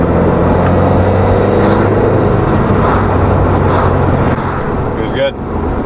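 A turbocharged Subaru Crosstrek with an FB20 engine and an AVO turbo kit pulls hard in a third-gear tip-in, a loud, dense, steady roar that fills the whole clip, with a brief higher burst near the end.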